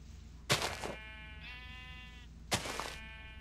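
Minecraft sheep bleat twice, about two seconds apart, each a loud, close, wavering baa, with a faint tonal game sound rising between them.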